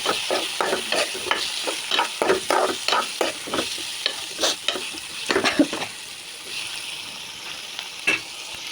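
Prawns with onion and a little turmeric are stirred in a frying pan, with a steady sizzle under a quick rhythm of spatula scrapes that slows and thins out toward the end.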